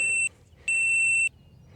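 A shot timer at rimfire rifle practice gives two clear electronic beeps: a short one cut off at the start, then a longer steady tone after a brief pause, over quiet background with no talking.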